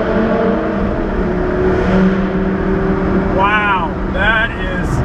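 A 2008 Lamborghini Gallardo in sports mode roars loud and close inside an empty tunnel, its engine droning steadily and then swelling through quick revving blips, with a voice exclaiming briefly.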